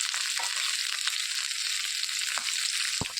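Fenugreek seeds frying in a pan for coconut and tamarind-leaf chutney, a continuous bright sizzle with a few light stirring scrapes near the end.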